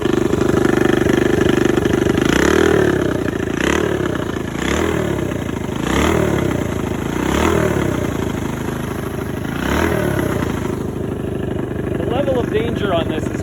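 A Honda QA50 pit bike engine runs steadily and loudly throughout, a close, continuous idle with a pulsing rhythm and occasional blips, while a voice talks over it.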